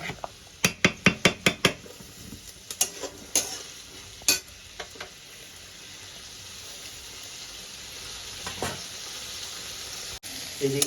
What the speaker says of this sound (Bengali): এদিকে আমি মটরশুঁটি আর ফুলকপিটা ভেজে নিয়েছি, সঙ্গে কুমড়োটাও